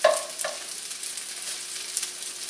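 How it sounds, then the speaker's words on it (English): Fried rice sears in a hot pan while being broken up and stirred, with a couple of quick scraping strokes at the start giving way to a steady close sizzle and faint crackles, with no talk. "The pan's nice and toasty. Everything's getting a good sear to it. Just trying to break up the rice a little bit."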